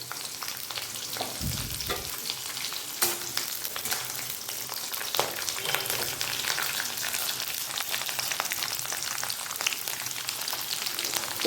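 Peanuts frying lightly in a pan with oil, a continuous close crackle and sizzle with occasional stirring scrapes and a dull knock early on, steady and alone without talk.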